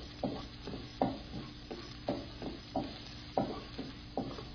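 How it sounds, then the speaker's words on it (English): Finely chopped ginger and garlic sauté in a pan, with a steady quiet sizzle under rhythmic stirring scrapes roughly every half second, close but faint. "Just saute it for a minute because you want this to be nicely cooked."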